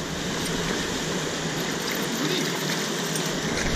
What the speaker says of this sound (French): Là-bas, sous la petite cascade, j'ai envoyé sous le petit bouillon.